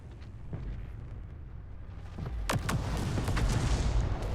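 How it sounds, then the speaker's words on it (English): In World of Tanks, bombers strike a bunker with a series of heavy explosions: a low, distant rumbling builds into several sharp blasts around the middle, then a dense, continuous roar of detonations. No voices are heard. "we're about to see the bombers crush that bunker"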